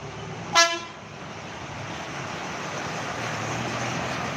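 One short, sharp horn toot from a passing college bus, followed by steady engine and road rumble.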